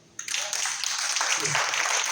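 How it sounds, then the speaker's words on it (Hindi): A roomful of people at a factory training session in Alwar bursts into applause, a dense steady patter of clapping that starts abruptly and carries on evenly for about two seconds. "ताली बजा दो।"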